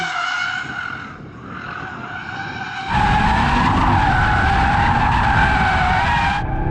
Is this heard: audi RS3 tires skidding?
yes